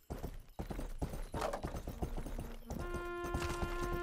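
Police horse hooves in the medieval game Rustler, clip-clopping in a quick, steady trot close by, mixed with game noise and a sustained musical tone joining in partway through.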